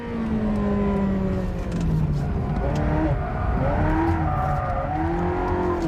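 A Ferrari Modena sports car driven hard with its traction control (ASR) switched off, engine revving and rising and falling through gear changes, loud and close throughout.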